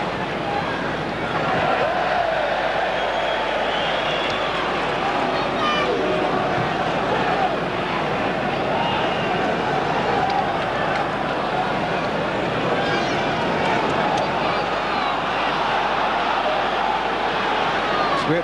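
Football stadium crowd at an Arsenal versus Liverpool Premier League match, a steady dense roar of thousands of voices urging a player on, continuous and fairly loud throughout with broadcast commentary voices over it.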